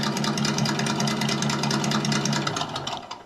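Traxxas TRX4 RC truck ESS sound system playing a simulated engine, a close, loud steady idle with a fast regular pulsing throb that fades slightly at the end.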